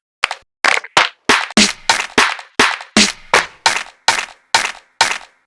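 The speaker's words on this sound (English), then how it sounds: "That sounds like a wide clap to me." A wide clap sample for a house track repeats thirteen times in a steady, evenly spaced rhythm, each hit a crisp, bright snap with a short airy tail, loud and alone.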